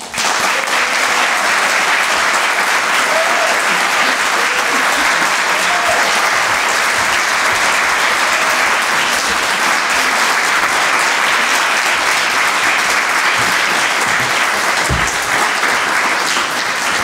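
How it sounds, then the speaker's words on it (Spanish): An audience at a university humanities faculty ceremony claps steadily for Professor Alfredo Matus Olivier, a dense and loud wave of applause that holds evenly for over fifteen seconds with no talk. "a quien recibimos con este aplauso"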